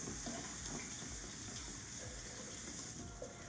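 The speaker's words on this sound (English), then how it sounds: "let me wash the top of this off first" Tap water runs steadily over the top of a food can at a kitchen sink, a continuous close splashing gush with no voices.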